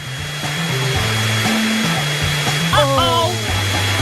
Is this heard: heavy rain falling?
no